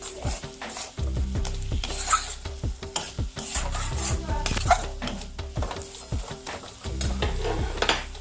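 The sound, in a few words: stirring chicken and mutton with spices in a pot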